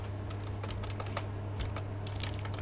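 Close, quiet typing on a computer keyboard while writing HTML tags, a quick irregular patter of keystrokes over a steady low hum, no voices.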